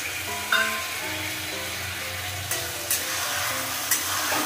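Ginger and green chilli paste sizzles and fries in a pan, a steady soft hiss with occasional stirring scrapes and clinks of a spatula, close by, over faint background music.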